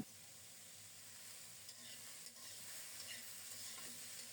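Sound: stirring potatoes frying in a pan

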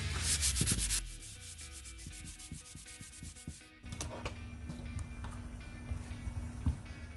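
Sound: sanding wood by hand before lacquering

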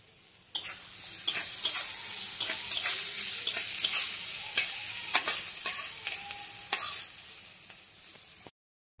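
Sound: chopped onions frying in oil

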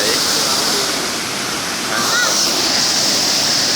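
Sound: flowing waterfall

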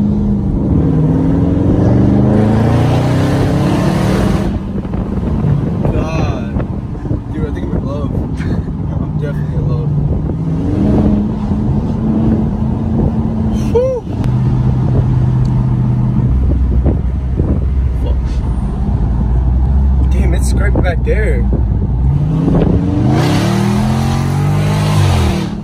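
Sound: Dodge Charger Scat Pack accelerating, engine revving

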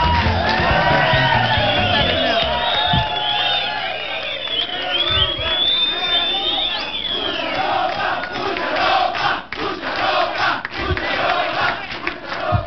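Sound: studio audience applause and cheering

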